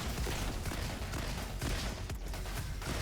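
Dual sawed-off shotguns fire in Roboquest, a loud, dense barrage of overlapping blasts that blends with other combat noise, continuous and close.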